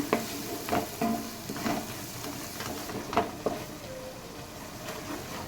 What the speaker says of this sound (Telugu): ఇలా బాగా ఆయిల్ పైకి వచ్చిన దాకా మనం ఆయిల్లో మసాలాని ఫ్రై చేసుకోవాలండి